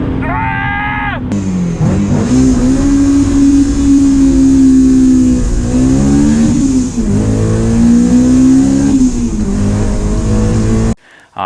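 A Honda S2000 (AP1) with a revamped naturally aspirated engine revs hard while driving, its loud, rising and falling engine note close and continuous, with brief shouting over it.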